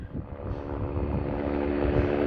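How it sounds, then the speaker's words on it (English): A supply helicopter flies out over St Kilda on Hirta, producing a continuous loud engine and rotor drone that holds steady and swells slightly, with no talk. "the peace was shattered once more by another helicopter flying out, having dropped its supplies"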